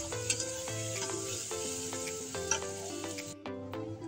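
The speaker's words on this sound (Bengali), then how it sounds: "আদা রসুনের পেস্টটা ভালো করে কষাবো, যাতে আদা আর রসুনের কাঁচা গন্ধটা না থাকে" Ginger-garlic paste sizzles as it is sautéed in a pan with green chillies. A continuous frying hiss sits under a steady tonal hum, with a few stirring knocks and a brief drop near the end.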